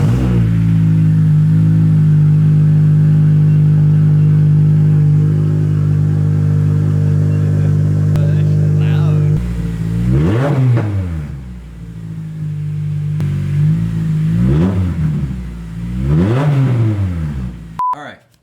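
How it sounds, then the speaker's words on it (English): An Acura TSX engine running with only the catalytic converter and no exhaust fitted idles loudly and steadily, then is revved in three or four sharp rising and falling bursts, close and raw. "I just want to start it right quick, type-ish, without the whole exhaust and just cat."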